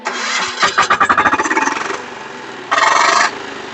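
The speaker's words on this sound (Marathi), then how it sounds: "बारा एच पीचं डिझेल इंजिन आपलं पॉवरफुल इंजिन आहे" A 12 HP Kama diesel engine on an Agrineer power weeder cranks with a quick run of rhythmic chugs, catches and settles. After a short lull it gives a loud, steady burst of running. The sound is close and dominant.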